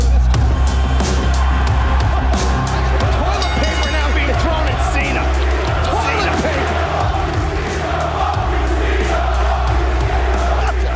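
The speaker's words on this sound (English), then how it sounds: "the crowd weren't just booing John Cena" A loud wrestling arena crowd booing John Cena at a 2006 event, a dense roaring wall of voices with chanting and sharp thuds throughout, steady and intense for the whole stretch.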